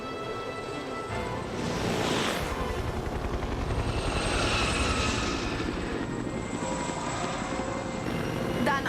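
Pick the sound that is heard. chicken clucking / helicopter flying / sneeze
helicopter flying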